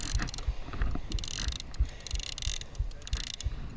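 A fishing reel's ratcheting, clicking mechanism tightens the line during beach shark fishing, a close rhythmic series of clicks and whirs over a steady wash of background noise.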